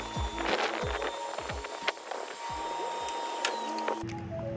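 PE53 boom lift legs extending on auto-level, with a series of hydraulic thumps and clunks, a steady whine and high-pitched beeping, close by and loud, ending in a shift of tone as the motion stops.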